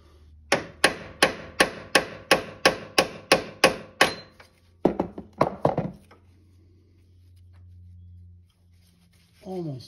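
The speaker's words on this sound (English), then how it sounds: "Just pound my hammer." Hammer pounding a part onto the front axle of a 2001 Polaris Scrambler 400 4x4 ATV: about ten rapid, evenly spaced loud metallic blows, a pause, a few more hits, then quiet.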